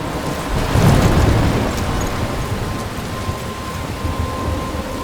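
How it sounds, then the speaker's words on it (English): A video game thunderstorm in Life Is Strange: steady heavy rain pours down throughout, and a deep rumble of thunder swells early before fading back under the constant downpour. "I'm trapped in a storm?"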